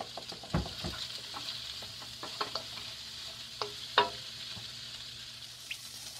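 Shrimp and broccoli tossed together in a hot pan with salt and black pepper, giving a steady sizzle broken by scattered scraping stirs and a few louder clanks of the utensil against the pan.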